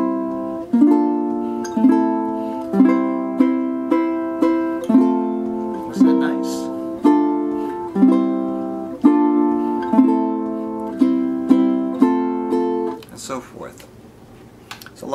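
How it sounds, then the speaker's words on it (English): Ukulele plays Ode to Joy in steady strummed chords, each phrase closed by four quick strums instead of two, bright and close with no voice over it, fading at the end. "I'm going to strum 4 times instead of 2."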